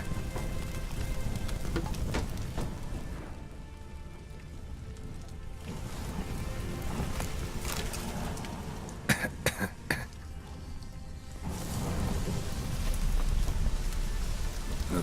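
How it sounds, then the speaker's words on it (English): Steady rain pours in a game world, a dense continuous wash of drops on surfaces, with a few sharp close cracks midway and a swelling rumble toward the end. "Looks like rain."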